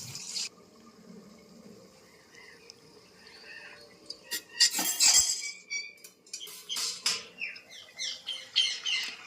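A pan lid comes off a pot of Bengali fish curry (basi macher jhol) cooked on a gas stove, giving a cluster of metallic clinks and clatters mixed with kitchen rattles, fairly close, with no talking.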